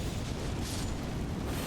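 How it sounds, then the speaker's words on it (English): Flame spell explosions in Elden Ring: Shadow of the Erdtree roar as a dense, continuous fiery rumble, with blasts blending into one loud, steady wash of noise and no voices. "I'm just filling the camera with flamity explosions"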